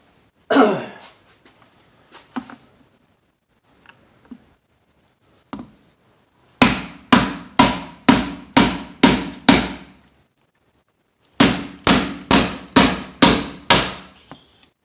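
Two sharp volleys of hard metallic hammer blows on a tire valve stem, about eight strikes then six, ring out close and loud after some quieter shuffling and a cough.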